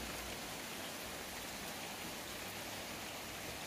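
Steady, dense hiss of rain falling in a bonsai garden, constant and enveloping throughout with no voices.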